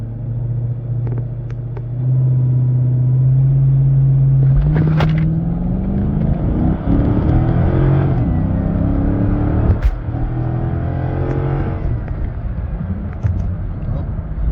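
A car with a Roar pedal throttle controller launches hard from idle. It holds a low steady hum, then surges into a loud rising engine roar that climbs through the gears and fills the cabin.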